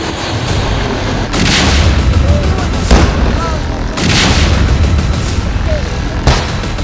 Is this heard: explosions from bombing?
yes